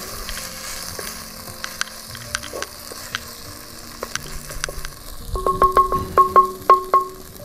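Ginger-garlic masala paste fries in oil for Godavari prawns over a wood-fired stove, a low sizzle with scattered clinks that turns into a run of rhythmic metallic taps and stirs near the end.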